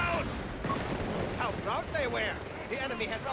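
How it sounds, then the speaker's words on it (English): Company of Heroes 3 battle gunfire during a grenade assault, with dense rapid bursts of rifle and machine-gun fire and distant explosions, loud and continuous, with voices calling out over the combat. "Another grenade assault here."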